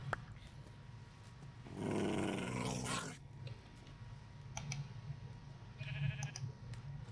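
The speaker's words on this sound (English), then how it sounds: "That is an angry wolf." An angry wolf in the Minecraft video game growls, a rough burst of snarling noise rising midway, set against low game ambience with scattered clicks and a softer growl later.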